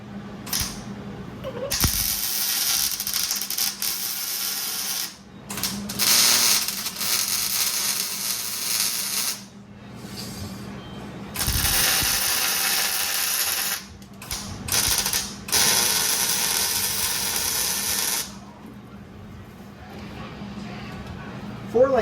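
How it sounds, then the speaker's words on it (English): A four-link suspension gets tack welded in a workshop, several loud, sizzling, crackling bursts of a few seconds each separated by short pauses, close up, with a person talking between them. "Let's throw some tack welds on here."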